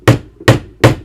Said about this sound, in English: then you're just going to strike it a couple of times